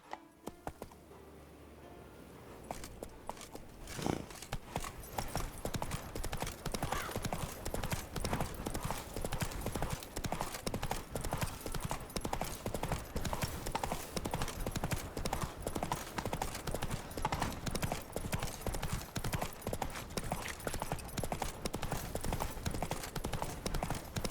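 Rapid, steady hoofbeats from Geralt's horse Roach galloping in The Witcher 3, a loud continuous clip-clop running for over twenty seconds under game music and ambience, after a quieter opening.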